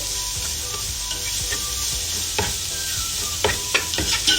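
Garlic ginger paste frying in a pan for soup, a steady crackling sizzle with occasional spoon scrapes and taps against the pan near the end.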